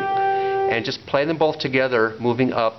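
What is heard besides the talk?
None of the usual background noises is heard.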